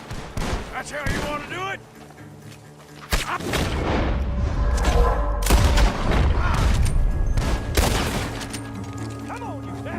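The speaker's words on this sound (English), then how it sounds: "The gunshots are coming from that barn." Gunfire rings out in Red Dead Redemption 2: repeated loud shots and bursts, some close and some echoing farther off, with voices talking between and over them.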